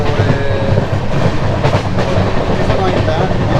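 A Shatabdi superfast double-decker express on the Chennai to Bangalore run rolls along with a loud, steady rumble and clattering wheels, heard from close by with no break.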